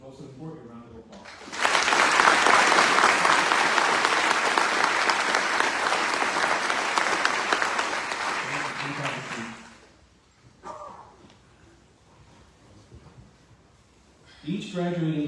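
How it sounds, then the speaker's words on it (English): Sustained applause from a graduation audience for special guests at a US Border Patrol Academy class ceremony, loud and steady for several seconds before fading into quieter room noise and brief talk. "please give these special guests a close support and a round of applause"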